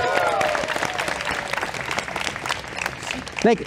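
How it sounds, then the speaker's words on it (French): A crowd claps for a young Burundian drummer, the applause spread across the clip under a lively room, with voices and a brief high call at the start. "On l'applaudit!"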